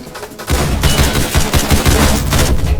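Rapid gunfire in the Roblox game Criminality, a loud, dense burst of shots rattling continuously for over two seconds after a brief quiet start.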